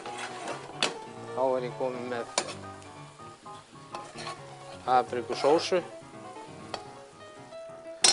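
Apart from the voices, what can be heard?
paprika cream sauce simmering and sizzling in a pan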